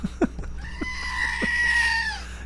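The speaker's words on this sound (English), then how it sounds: "Gotta cleanse the palate with some Screaming Goat." A goat gives a long, loud, human-like scream that rises and holds before trailing off, preceded by a few short knocks and thumps.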